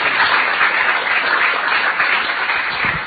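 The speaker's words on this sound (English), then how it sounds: "let's have a big round of applause for all of our speakers" A large audience at an ocean-themed event gives a big round of applause for the speakers, a loud, even, continuous roar of clapping throughout.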